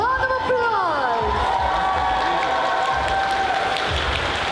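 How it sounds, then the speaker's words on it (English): An audience at a horror fan convention in Manchester applauds and cheers steadily throughout, with whoops and voices rising over the clapping. "Round of applause!"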